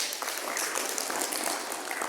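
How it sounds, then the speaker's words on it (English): A school assembly crowd claps steadily for the custodial staff during an Industriousness Day event, a dense, even wash of many hands at moderate volume with no voices over it. "Miss Molly, give them a round of applause"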